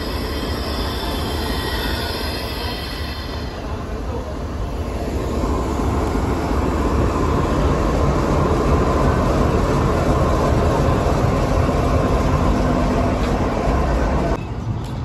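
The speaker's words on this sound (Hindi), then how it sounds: "सिग्नल ग्रीन हो चुका है ट्रेन के लिए, बस कुछ मिनट में वो रवाना होने वाली है।" A pilgrim special train for Hindu and Sikh pilgrims travelling to Nankana Sahib rumbles steadily as it stands ready to depart, with a continuous loud railway drone and faint wheel squeal throughout, and no talk.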